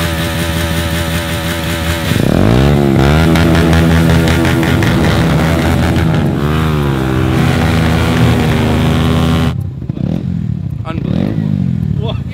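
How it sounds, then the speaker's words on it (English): A street bike engine buzzes loudly with a thin, high-revving whine like a moped, rising and falling in pitch as the throttle is worked, then idles. "Poor Ken sounds like a moped right now."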